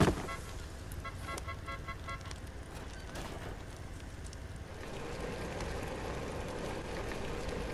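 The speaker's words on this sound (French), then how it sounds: "j'ai réussi à faire le gros klaxon" Loud, deep horn honk from a vehicle in a video game, sounding as a few repeated blasts over steady engine and wind-like rumble, followed by continuous driving noise.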